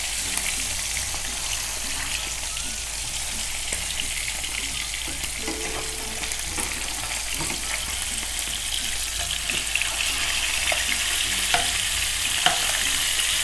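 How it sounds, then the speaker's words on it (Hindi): Fish sizzles steadily in a hot pan for masala fish curry, a constant bright frying hiss with occasional small pops and clinks, close and moderately quiet, with no talking. "दूसरी साइड से भी इसको फ्राई करेंगे"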